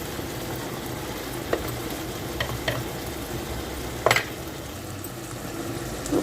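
Onion, garlic, ginger and spices frying in oil for a mango curry, a steady low sizzle with a few soft stirring scrapes and clinks at intervals, close and moderately loud, no voices.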